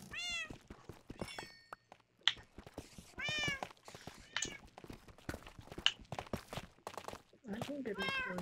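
Cats in the Minecraft video game meow repeatedly, several clear, high, rising-and-falling cries spread through the stretch, mixed with footsteps and soft game clicks and a little talk.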